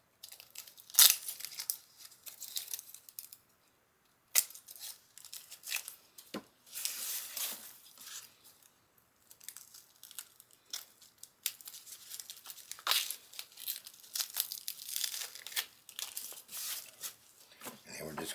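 Onion skin being peeled by hand in a kitchen, faint intermittent crinkling and tearing rustles with short pauses, quiet and close.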